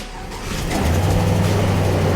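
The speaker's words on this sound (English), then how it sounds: "the truck's cranked up. It's running" A 2003 Chevrolet Silverado with about 200,000 miles and a faulty transmission cranks and fires up, a brief churning start that settles into a steady, loud, close idle rumble.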